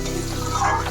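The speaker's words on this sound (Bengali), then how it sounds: "অল্প পরিমাণ এর মধ্যে জল দিয়ে আবার একটু ভালো করে কষিয়ে নিচ্ছি" A small splash of water hitting curry masala frying in a pan, a brief sizzling hiss that rises slightly near the end, heard up close and alone.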